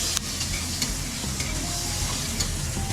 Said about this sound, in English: So stir that for a little bit, and then add your curry leaves.